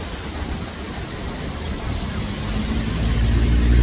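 An artificial waterfall at Khor Fakkan pours continuously, a steady broadband rush of falling water heard up close that swells slightly louder toward the end.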